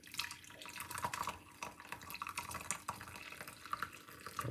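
Brewed bay leaf tea poured off from a pot, a steady close splashing trickle of liquid running continuously throughout, moderately loud, with no talk.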